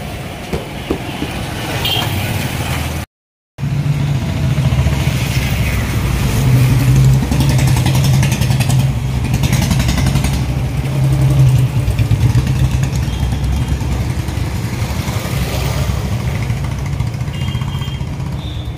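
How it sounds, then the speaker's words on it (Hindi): A motorcycle engine runs steadily during a ride through a Punjab village, a continuous close drone with road and wind rumble and a brief cut near the start, no talking. "मगर आज मैं बाइक चलाऊंगा, क्योंकि भारी सामान लिया है आकाश ने।"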